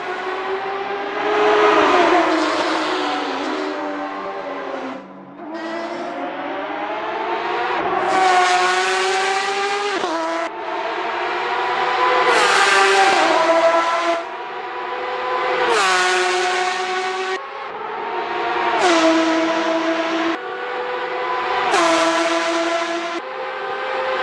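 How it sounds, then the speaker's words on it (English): A Porsche 911 RSR 2018 race car in a racing video game revs hard and loud, its engine note climbing and then dropping sharply at each gear change, again and again at a steady rhythm. "Smells Like Weed is getting to grips with the Porsche 911 RSR 2018 in this practice session"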